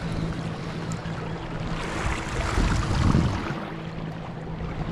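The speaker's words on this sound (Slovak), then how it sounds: "Začalo krásne pršať." Heavy rain falling on a gravel-pit lake around a wet fishing boat, a dense steady hiss with a low hum beneath, swelling slightly midway and continuing without talk.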